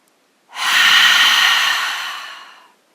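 A long, deep exhale during a yoga session, a close, breathy rush that swells quickly, then tapers off slowly over about two seconds, heard alone.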